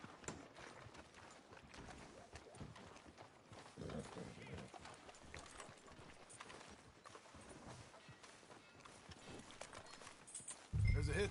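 Horse hooves clip-clop in a steady walking rhythm in the video game Red Dead Redemption 2, faint and blended with ambient game sound while people talk over it.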